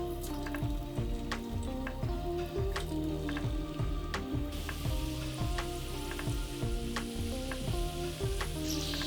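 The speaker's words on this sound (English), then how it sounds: "So into the boiling hot oil the fries go," Potato fries dropped into boiling hot oil sizzle steadily and loudly throughout, with repeated sharp crackles and pops over a continuous frying hiss, no voices.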